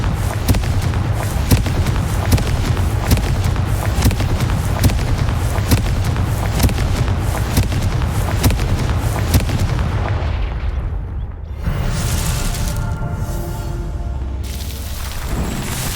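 Repeated Confringo blasting spells explode in quick succession in the Hogwarts Legacy video game, a dense, loud barrage of booms and crackling bursts that thins out and shifts near the end.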